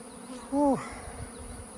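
A single honeybee zips close by during robbing at a hive, a short rising-and-falling buzz lasting about a quarter second over quiet background hum.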